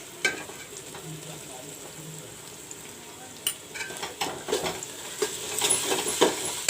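Ginger garlic paste sizzles and fries with golden-browned onions in a pan for mutton jhol, a steady low crackle broken by sharper stirring bursts and spatters that grow busier toward the end.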